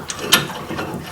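One quick ratchet wrench click, close and sharp, as it turns a brake caliper bolt on a Toyota Corolla during a front brake pad job, with a faint mechanical rattle around it.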